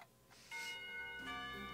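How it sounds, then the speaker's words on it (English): A school's final bell rings out in the Katawa Shoujo visual novel, its sustained tonal chime swelling in after a soft start and holding steady, layered with a second ringing tone toward the end. "When the final bell sounds, I realize that there is still a lot of time left in the day"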